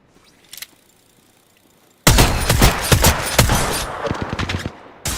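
A faint shot comes first, then a loud, sudden barrage of rapid gunfire from smart bullets in a shooter video game, with dense overlapping cracks and booms that thin out toward the end.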